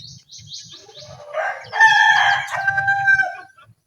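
A rooster crows once, loud and close, with a rising then held cock-a-doodle-doo, preceded by softer bird chirps and a low rhythmic background thumping.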